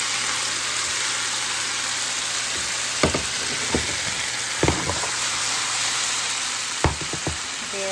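Broccoli and mushrooms fry in a hot pan with a steady, loud sizzle. Occasional sharp clinks of a spatula or utensil against the pan sound over the constant hiss.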